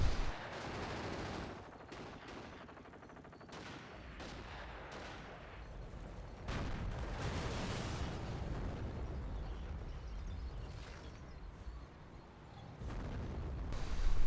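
Video game battle with a machine gun and a mortar half-track firing, dense bursts of gunfire and booming explosions rolling continuously, loud and chaotic, no talk over it.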